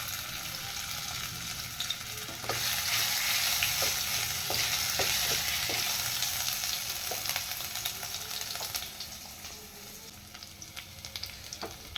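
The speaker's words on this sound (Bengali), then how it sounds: "সরষের তেল দিয়ে দেবো দিয়ে দেবো একটু কালো জিরে ফোড়ন আর একটু রসুন থেতো করা" Nigella seeds and crushed garlic sizzle steadily in hot mustard oil, a loud close crackle that swells after the first couple of seconds and holds with scattered pops and spits throughout.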